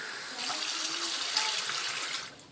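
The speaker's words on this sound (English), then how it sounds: "turn the hot water on. Fill it up." Hot water runs steadily from a tap into a sink, a continuous bright splashing stream at moderate loudness with no voices.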